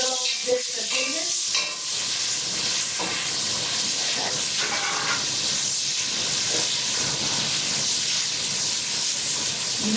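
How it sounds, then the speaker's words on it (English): Sausage sautés in a pot for a German potato soup, a loud, steady sizzle and hiss of frying fat that carries on without a break, close up with no talk. "let it saute up a bit"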